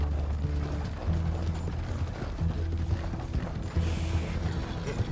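A horse's hooves clip-clop steadily in Red Dead Redemption II while it is ridden, mixed with creaking tack and low game sounds, fairly close and even in rhythm.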